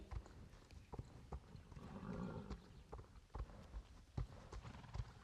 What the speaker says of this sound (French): On va directement trotter parce que ce matin, il s'est déjà bien défoulé.